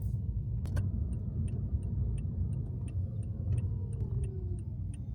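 Road traffic heard from inside a moving car: a steady, loud low rumble of engine and road noise throughout, with a faint, regular ticking on top.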